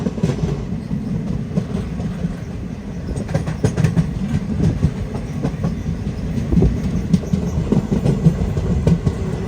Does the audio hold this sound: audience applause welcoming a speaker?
no